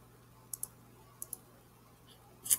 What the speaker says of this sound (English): my mouse is double-clicking when I am not making it double-click